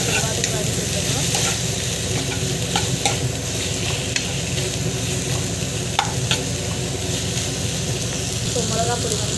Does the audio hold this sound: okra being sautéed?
yes